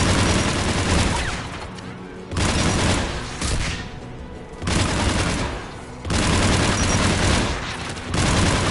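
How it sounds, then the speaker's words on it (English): Geth anti-aircraft guns in Mass Effect 3 fire in loud, sustained bursts of heavy gunfire, about four long volleys separated by brief lulls. "The Geth anti-aircraft guns are up ahead."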